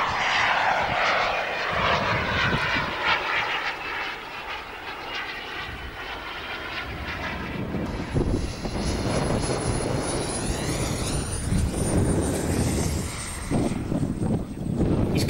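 An RC model jet turns into a strong crosswind and comes in fast to land at a model jet event at Temora, Australia. Its engine roar stays loud and continuous, rising and whining as it passes close, with a high thin tone building near the end.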